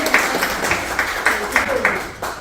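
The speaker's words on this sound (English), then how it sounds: "Let's give her another round of applause" Audience applause at a Brown v. Board 70th anniversary event: a steady wash of hand claps from a crowd, moderately loud and continuous for a few seconds, with bursts of individual claps standing out.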